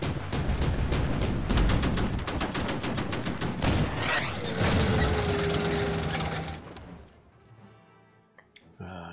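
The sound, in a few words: dive bombing artillery in video game Order of Battle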